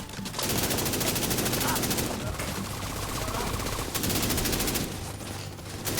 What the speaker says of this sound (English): There are so many bullets coming through that hallway.